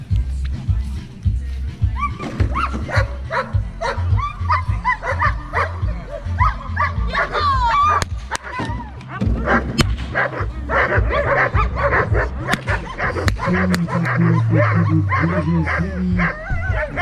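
German shepherd dogs bark and yip repeatedly during a defense demonstration at a national dog show, the barking mixed with crowd noise and steady talk over a loudspeaker.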